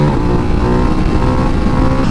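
A motorcycle engine revs during a clutch-up, a loud, close, continuous growl that holds steady throughout with no talking.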